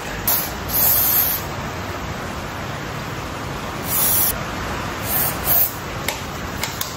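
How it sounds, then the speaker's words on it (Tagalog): Spray cleaner shot onto a motorcycle's signal light switch in several short, loud hissing bursts, some longer and some quick, with brief quiet gaps between them. "Spray nyo lang dyan. Lalo na dito sa signal light."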